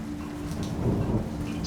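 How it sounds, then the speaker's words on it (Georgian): Heavy rain pours down in a steady, muffled wash with a low rumble beneath it, heard from indoors for a brief moment. "უკანა ოთახში წვიმს ჩვეულებრივად"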